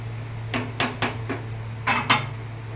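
A spoon clinks and knocks against a pot while stirring milk powder into milk for misti doi, about six sharp, irregular taps over a steady low hum.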